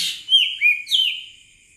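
Three sweet, sliding whistles from an Asian koel follow one another quickly and fade out, close and clear against a quiet background.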